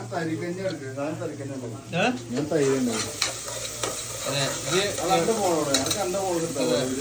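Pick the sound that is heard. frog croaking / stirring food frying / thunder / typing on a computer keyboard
stirring food frying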